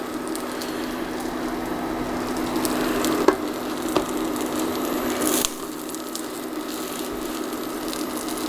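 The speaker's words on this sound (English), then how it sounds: "sourdough, when it goes fried and crispy like this, is just super awesome" Sourdough bread fries crisply in a pan, giving a steady loud sizzle throughout. A few clicks and scrapes from moving the slices cut through, and the sizzle drops slightly partway through.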